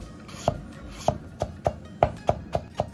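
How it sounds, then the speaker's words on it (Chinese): A kitchen knife chops potato on a cutting board in eight crisp, evenly spaced strikes, close and clear. "切上两刀，土豆放上不乱晃啊"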